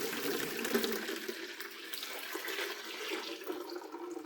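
Hot water runs from a tap into a bowl set in a kitchen sink, a steady, faint rushing and splashing that continues throughout without speech.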